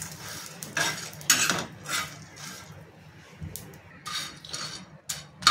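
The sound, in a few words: roasting chopped ginger in a pan, stirring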